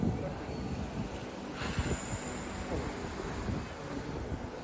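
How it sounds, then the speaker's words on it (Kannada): Steady wind blowing by the sea near boats, a broad continuous rush with a brief louder gust partway through, no talking. "ಗಾಳಿ ಬರ್ತದೆ ಆದ್ರೂ ಒಳ್ಳೇದಾಗಿರಲಿಲ್ಲ ಬಿಸಿಲಿಂದ"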